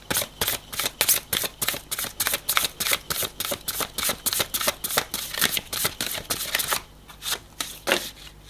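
Oracle cards being shuffled by hand in quick, regular riffling bursts, roughly two or three crisp papery flutters per second, close and loud, pausing briefly near the end before a few last shuffles.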